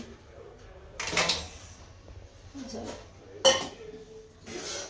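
Pots and utensils clatter during tea making in a home kitchen, with a few sharp clinks and knocks spaced across the moment, one bright metallic strike standing out, all fairly close with quiet room noise between.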